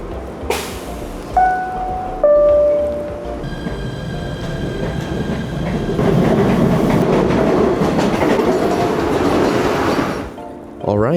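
A PATH train at Harrison station makes loud rumbling and clattering with squealing wheel tones, chimes and rising motor hum as it moves off, close by, with an automated announcement over it.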